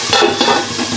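Diced potatoes dropped into hot oil with white cumin seeds in a home pan, giving a close, steady sizzle and crackle with light stirring scrapes for a brief moment, no talking.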